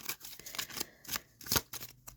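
Tarot cards being shuffled by hand, a quiet close run of irregular flicking and riffling snaps with short pauses between bursts.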